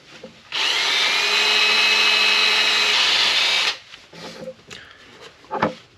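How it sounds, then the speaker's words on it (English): A power drill spinning a wire wheel whirs loudly and steadily for about three seconds, cleaning a GTO wheel hub with a scraping, brushing hiss, then stops; scattered clanks and handling noises follow. "I am going to clean that out with this drill and a wire wheel."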